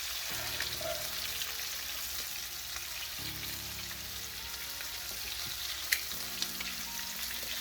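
Food frying in a pan on the stove, a steady close sizzle with light crackles and occasional stirring clinks, no talk.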